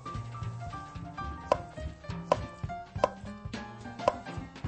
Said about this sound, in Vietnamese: Còn cái hành tây mình sẽ cắt múi cao